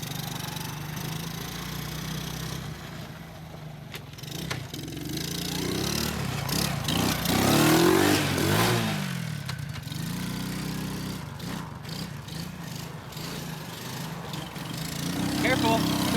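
Small engine of a cheap $50 quad bike running off-road with no brakes, a mid-pitched buzzing drone that swells and fades as it passes, with people talking over it.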